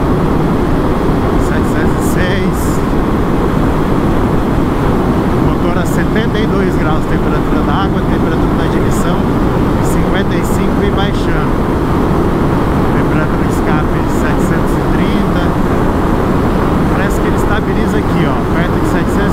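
Turbocharged, street-legal Suzuki Hayabusa at speed, heard onboard as a loud continuous engine roar mixed with heavy wind rush and a few brief higher whines, with no letup.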